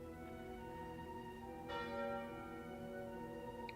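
A bell tolls once in the Slay the Spire video game for the Curse of the Bell card, a ringing tone with sustained harmonics that struck again partway through and decays quietly.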